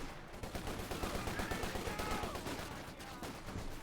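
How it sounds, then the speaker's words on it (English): Vickers machine gun fire in Company of Heroes 2, sounding as dense rapid bursts of game gunfire mixed with other battlefield shots, steady and loud throughout, with a commentator talking over it. "Vickers firing away as well"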